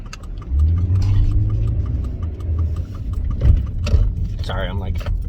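A car cabin carries a low, steady engine hum and road rumble throughout while a person talks over it at close range.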